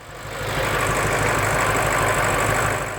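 A failed BMW M5 engine idles very roughly, a steady, uneven mechanical churn with a knocking undertone at moderate loudness, heard close with no talking.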